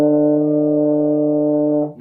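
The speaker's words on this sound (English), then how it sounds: "So that is how you play a D, with this finger and this finger down" A baritone horn holds a steady D for about two seconds, a clean, sustained brass tone played close and alone, cutting off abruptly at the end.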